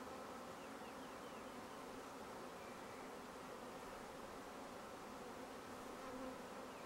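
A honey bee swarm being caught into a box gives a steady, dense buzzing hum that fills the whole stretch without a break, close and even in loudness, with no talk.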